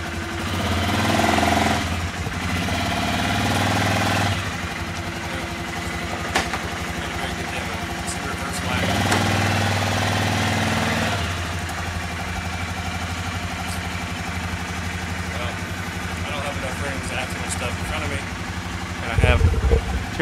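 A Suzuki KingQuad ATV engine idles close by with a steady, throbbing, mid-pitched rumble that holds for the whole stretch, swelling slightly at times and ending with a brief clunk.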